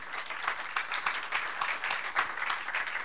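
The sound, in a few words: applause for the Lord in church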